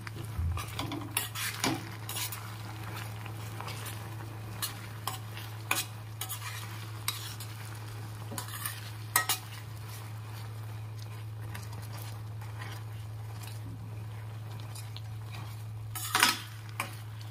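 Hair oil ingredients are stirred in a pan on the stove, with repeated scattered clinks and scrapes of a metal spoon against the pan over a low steady hum and light sizzle.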